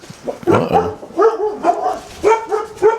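Dogs barking at home as neighbors come by for their mail: several sharp, close barks and yips in quick bursts, loud and repeated.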